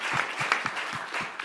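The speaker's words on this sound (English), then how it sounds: "well-deserved applause" Audience applause at the close of a conference session on union renewal, a steady sustained clatter of many hands filling the room, moderately loud and unbroken throughout.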